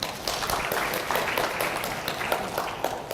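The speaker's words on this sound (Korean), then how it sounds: "박수 한번 부탁드립니다." An audience at a smart factory seminar applauds, giving a steady patter of many hands clapping at moderate distance that lasts a few seconds.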